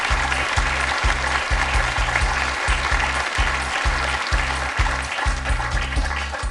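A studio audience applauds a game show contestant, a steady burst of clapping that holds at an even level throughout.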